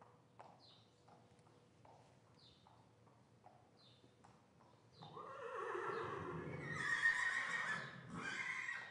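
Hooves clip-clop at a slow, steady walk for several seconds as a horse is led for a lameness check, then it lets out a loud, close, drawn-out whinny.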